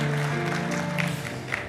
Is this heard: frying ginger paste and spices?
no